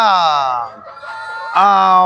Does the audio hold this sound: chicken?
yes